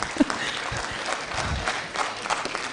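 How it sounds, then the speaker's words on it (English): Audience applause for Kenyan dignitary Kalonzo Musyoka at a Pan African youth convention, a steady wash of clapping from a large crowd lasting a few seconds, fairly close and even in loudness with a few louder claps. "Can we give His Excellency a round of applause?"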